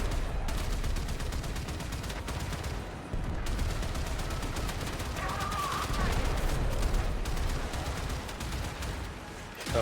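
The Shatterburst mod attack aboard a Warframe Railjack sounds as dense, rapid bursts of explosive fire. The crackling barrage continues almost without a break, with a brief tonal flicker partway through.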